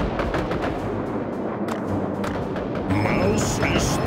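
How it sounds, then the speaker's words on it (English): Booming Soviet cannon fire in a World War II strategy game, a dense wash of heavy gunfire and thuds rolling steadily throughout, with battle noise swelling near the end and voices mixed in. "Listen, roar of the Soviet guns."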